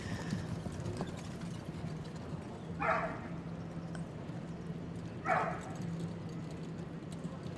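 A team of four grey horses, with hooves striking at two scattered moments against a steady low background hum; no one speaks.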